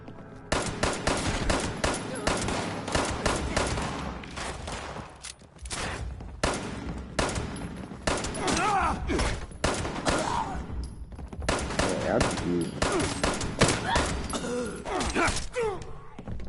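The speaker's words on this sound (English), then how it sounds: "People in here shooting." Sustained automatic gunfire from the video game Fallout 76, set in West Virginia, with rapid bursts and volleys of shots crackling almost continuously and mechanical clunks between them.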